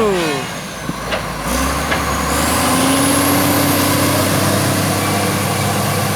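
A six-wheeler truck roars loud and close at speed over a rough road, its engine holding a steady high drone with shifting pitch, rattles and bumps throughout.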